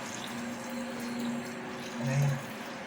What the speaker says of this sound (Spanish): Le agregamos el agua pasando el nivel del afrecho.